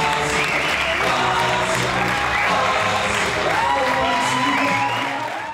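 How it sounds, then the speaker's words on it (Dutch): Sustained applause and scattered cheers from a large crowd welcoming cyclist Florian Vermeersch in a sports hall in Zaffelare, a dense, continuous clapping that fills the room, with voices and whoops mixed in. "Wat daarna volgt is een minutenlang applaus van de vele aanwezigen."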